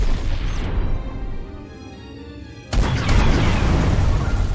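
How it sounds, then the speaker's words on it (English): Torpedo launch and explosion in the Treasure Planet: Battle At Procyon game, a loud rushing blast that fades into a quieter hum before a second sudden, heavy boom cuts in and roars on, near and powerful. "Fire! Torpedoes away!"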